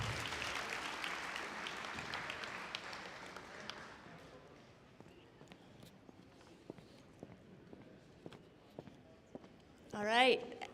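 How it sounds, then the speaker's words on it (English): Applause at a school scholarship and awards ceremony, a burst of clapping that fades into scattered claps and footsteps as people come forward, with a brief loud rustle near the end. "Let's give them a big round of applause."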